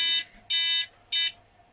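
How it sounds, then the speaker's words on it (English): Three loud electronic buzzer beeps from two speakers on a remote control lawnmower, evenly spaced with short gaps, close and clear with no talk. "That noise coming from two speakers, yeah, so buzzers."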